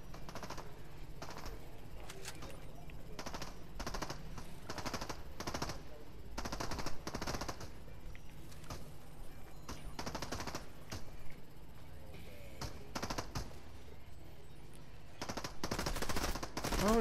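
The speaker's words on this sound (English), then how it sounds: "Oh, now they're shooting at me." Rapid automatic gunfire and scattered shots in the video game Fortnite, sustained bursts over game ambience, moderately loud and continuous.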